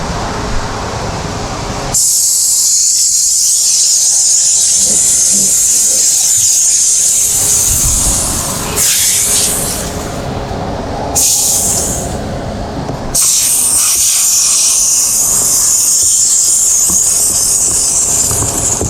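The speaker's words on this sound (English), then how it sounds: "Pretty wet, steam cleaning." A steam cleaner sprays hot steam through a car interior during a full detail, a loud, steady hiss running in long bursts with short pauses around the third, ninth and twelfth seconds.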